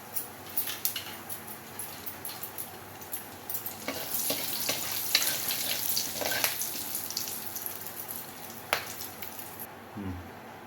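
Cumin seeds with whole spices—bay leaf, green cardamom, cloves and black peppercorns—fry in hot oil for mixed vegetable curry, a close crackling sizzle with scattered stirring clinks that swells midway and eases off near the end.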